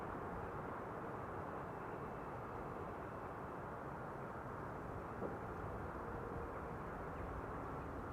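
A Boeing 747 rolls out after landing at Amsterdam Schiphol Airport, its engines giving a steady, even roar from a moderate distance that holds without break, with no voices over it.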